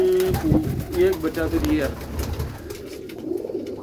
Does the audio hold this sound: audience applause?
no